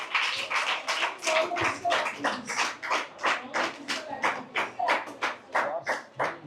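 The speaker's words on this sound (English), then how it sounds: "Give a clap for this boy." Students in a school classroom clap for a boy, a steady run of about twenty sharp, evenly spaced claps that sound like a small group in unison, with faint voices underneath.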